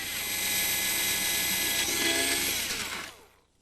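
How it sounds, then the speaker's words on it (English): A steady, high-pitched drill whines continuously for about three seconds while drilling bracket mounting holes, then winds down and stops. "Then drill the bracket mounting holes."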